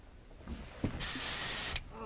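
Pepper spray discharges in a sharp, loud hiss lasting under a second during a tense police confrontation, preceded by brief scuffling noises.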